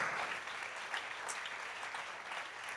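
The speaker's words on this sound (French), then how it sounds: "Oh, acclame pour toi-même." A church congregation claps in sustained, dense applause, a close and steady wash of many hands with scattered cheers rising through it.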